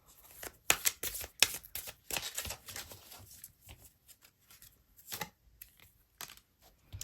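Tarot cards being shuffled by hand in quick riffling bursts, loud at first and then softer, irregular clusters of crisp papery flutters and taps with short pauses between them, no voice.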